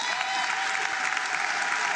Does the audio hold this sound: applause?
yes